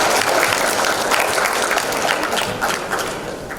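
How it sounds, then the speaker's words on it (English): A conference audience claps for a keynote speaker, a steady, moderately loud round of applause that slowly thins toward the end, with no talking. "Can we give a big clap?"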